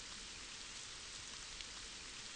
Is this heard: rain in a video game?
yes